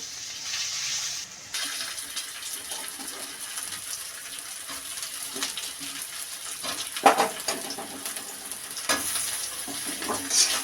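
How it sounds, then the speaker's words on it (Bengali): Onion, ginger and garlic fry in a pan as the base for potato paratha. A continuous close sizzle runs through, broken by scraping stirs and a couple of louder clattering strokes, with no voices. "এখন আমার জন্য আলুর পরোটা হবে, তার জন্য পেঁয়াজ আদা রসুন ভাজা হচ্ছে"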